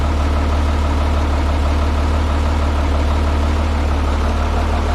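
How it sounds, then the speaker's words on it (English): A Minneapolis Moline A4T tractor's engine, a motor out of a White 2150, idles steadily up close, a continuous low rumble with an even pulsing beat and no voices. "This is the motor for the other A4T."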